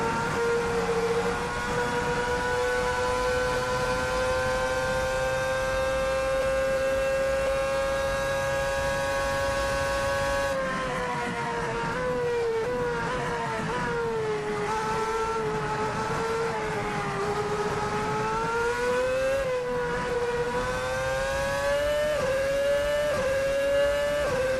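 Ferrari F2007 Formula 1 engine in Assetto Corsa screaming at full revs near 19,000 RPM, a loud continuous high-pitched wail that holds steady, then wavers and climbs through gear changes, with no voices.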